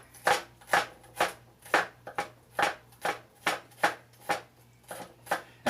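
A knife slices thinly through a small shallot half on a cutting board, giving about a dozen evenly spaced crisp strokes that land close and clear, with a faint steady hum underneath and no talk.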